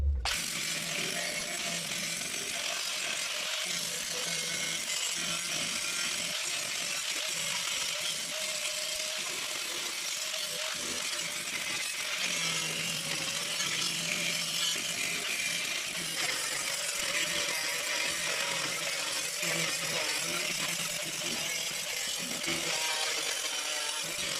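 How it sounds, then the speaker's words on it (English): An angle grinder cuts into the metal panel of a classic Ford Escort van under restoration, giving a continuous, loud, harsh whine with small scraping variations throughout and no talking. "Just grind all of this here just to see what's going on"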